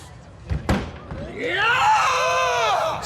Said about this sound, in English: Screaming his way onto the platform